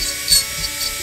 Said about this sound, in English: I'm using a dental drill.